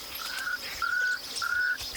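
A Swainson's francolin gives three drawn-out, level calls at even intervals in the African bush, fairly clear and distinct over a faint hiss of insects and background ambience.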